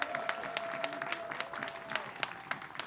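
An audience at a children's spelling bee claps for a second-place winner, a brief burst of scattered applause that sounds moderately distant and fairly faint.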